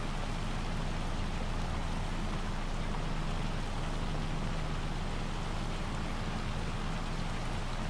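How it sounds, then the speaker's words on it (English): Heavy hail pelts down steadily in the Farming Simulator 25 video game, a dense, continuous clatter and hiss with a low rumble underneath, loud and unbroken throughout. "Some pretty heavy hail here."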